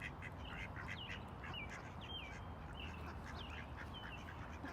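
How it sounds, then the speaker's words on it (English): Several ducks quacking on a beach, repeated short nasal calls at moderate distance scattered over a steady background hiss, no talking. "Look at the ducks walking."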